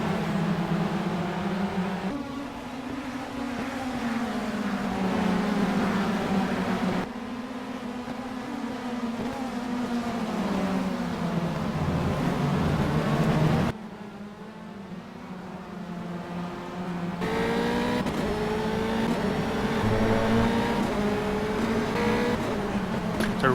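A full field of Formula 3 race cars in a racing video game sweeps past at Interlagos, engines droning and shifting pitch in a continuous, layered roar, with a commentator talking over it.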